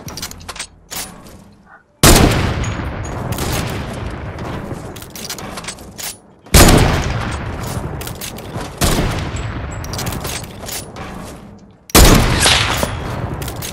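Loud video game sniper rifle shots in a build battle match, several sharp heavy reports each followed by a long booming decay, spaced a few seconds apart with faint scattered clicks between.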